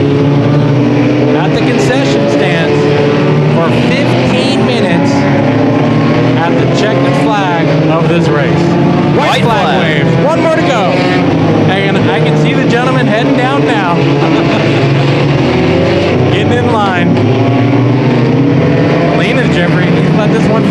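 Compact cars racing laps at a figure 8 destruction event, heard as a continuous loud roar of engines rising and falling as cars pass, with a public-address announcer talking over the racing throughout.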